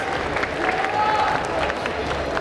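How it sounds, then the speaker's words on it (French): A studio audience claps and cheers in a steady, dense wash of applause during a video competition show, sustained and fairly loud throughout. "Applaudissez-la, elle va avoir besoin de force."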